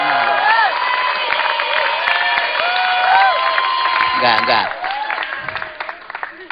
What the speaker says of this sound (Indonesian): Wah, dapat tepuk tangan.